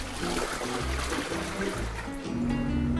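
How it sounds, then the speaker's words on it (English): A Saniflo upflush toilet flushing: gurgling, trickling water with a mechanical hum from the macerator pump rising near the end, moderately loud and close. "I can flush it now."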